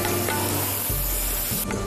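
Ground tomato paste is poured into hot masala that already holds salt and spice powder, and a steady sizzle carries on throughout with a brief swell of frying noise near the end.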